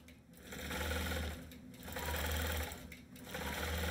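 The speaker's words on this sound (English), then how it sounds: "Let's stitch that out." An embroidery sewing machine stitching out a pattern, a steady close mechanical whir with rhythmic needle pulses that swell and dip in a repeating cycle, with no talking.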